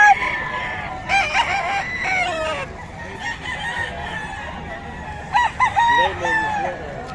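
Lemon sweater gamefowl rooster crowing at a poultry spot in Bocaue, two loud, drawn-out crows close by with clucking and faint talk in the background between them.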